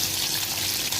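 Green chilies dropped with mustard seeds into hot oil in a pan for a simple potato bhaji give a steady, close, bright sizzle that carries through the whole second.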